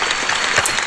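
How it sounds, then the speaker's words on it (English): Short burst of applause for participants at the close of an online discussion group, a dense, steady patter of clapping filling the whole moment with no voices. "A big round of applause to all who participated."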